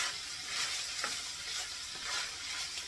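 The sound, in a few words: potatoes and sausage frying in bacon grease, being mixed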